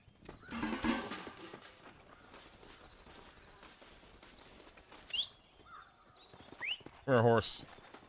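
Horse neighing and hooves in the video game Red Dead Redemption, with a sharp whinny near the end after scattered clip-clops and rustling, and someone talking earlier.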